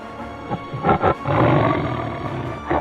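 A lion roars to warn its pride, with a few deep, loud, rumbling roars building into a sustained bellow, close and unaccompanied by speech.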